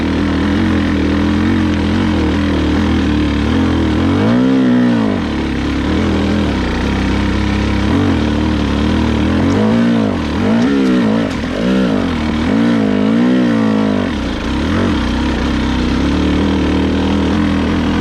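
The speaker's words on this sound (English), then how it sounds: "You'll see me bogging up hills and keeping it really low in second without stalling it." A 2022 Husqvarna TE300i TPI two-stroke dirt bike lugging low in second gear up hills, its engine droning steadily with repeated surges and dips in revs, close and continuous.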